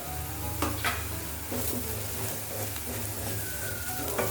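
Ground coriander roasting in an oily pan for restaurant-style chana masala, a continuous soft sizzle with a few spoon scrapes as it is stirred, close and steady with no talk.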